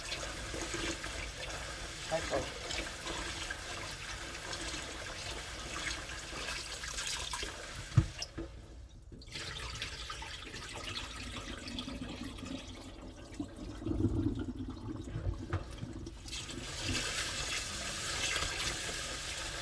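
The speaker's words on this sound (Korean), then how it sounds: "자, 맑은 물이 나올 때까지 쌀을 씻으세요." Glutinous rice is being washed in water for homemade traditional makgeolli, with steady splashing and running water throughout and a brief louder swish midway; faint talk can be heard in places.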